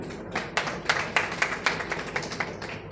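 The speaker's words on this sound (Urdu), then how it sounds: "آپ کو اسٹیج پر آ کر اظہار خیال کی دعوت دیتا ہوں، آپ سب کی بھرپور تالیوں میں" A small audience at a literary gathering in Pakistan claps to welcome a speaker to the stage, a few sparse, distinct hand claps in loose rhythm, close and moderately loud, tapering off after about three seconds.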